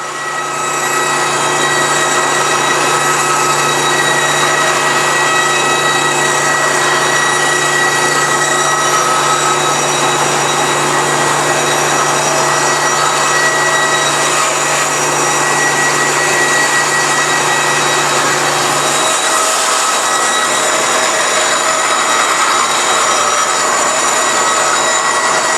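A saw, the Model 480i, cuts through a plastic box with a loud, unbroken mechanical roar and a sustained low hum that drops away near the end as the blade breaks through the back wall.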